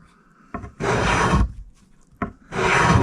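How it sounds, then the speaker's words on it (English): A rasp files a wooden guitar neck in two long, coarse scraping strokes, each preceded by a short tap as the tool is set down, with quiet pauses between them. "my first time using a rasp"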